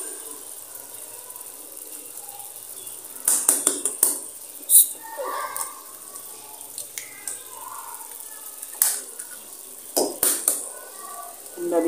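Two eggs go into a pan of softened potatoes for aloo anday bhujia, with light clinks of utensil on pan, cracking taps and soft sizzling drips, and someone talking over it.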